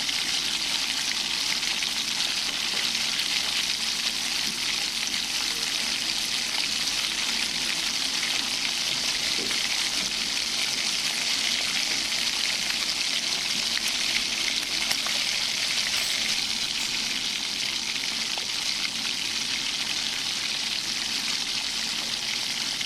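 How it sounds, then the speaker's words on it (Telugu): Pieces of paneer fry in hot oil until golden brown, giving a dense, continuous hiss and sizzle at close range that stays even throughout, with no voices. "అందులో కొంచెం ఆయిల్ వేసుకుని బాగా హీట్ అయ్యాక కట్ చేసుకున్న పన్నీర్ పీసెస్ని వేసి గోల్డెన్ బ్రౌన్ వచ్చే వరకు ఫ్రై చేసుకోండి."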